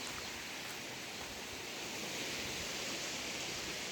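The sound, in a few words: jungle waterfall flowing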